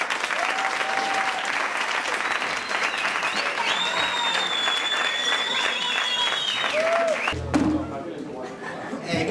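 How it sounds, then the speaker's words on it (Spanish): Crowd applause greets a music group at a Día de la Música presentation: a loud, continuous wash of clapping mixed with chatter and sustained tonal notes, ending in a sudden low thump. "Varios aplausos para ellos."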